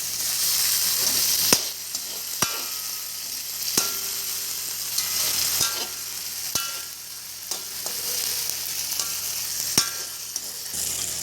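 Chopped tomatoes and green chilli sizzle steadily in a pan for Mamak-style mee goreng. A spatula strikes the pan with sharp clacks every second or so, and no one speaks.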